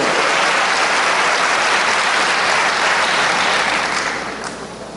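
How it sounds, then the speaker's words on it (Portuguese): Loud, dense applause from a large church congregation, sustained and then fading toward the end. "Dá um aplauso ao Senhor"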